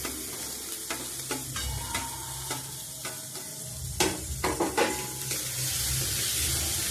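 Urad dal being stirred and fried in a pan, a steady sizzle with repeated scraping strokes of a spoon, growing into a louder, denser hiss toward the end.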